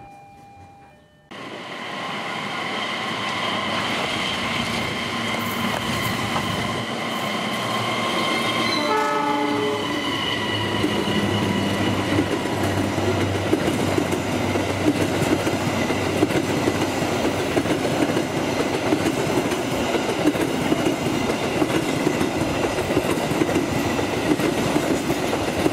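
Indonesian train with a loaded baggage wagon passing close at Cikarang, a long loud rumble with clickety-clack, a short horn blast partway through, and steady wagon noise to the end.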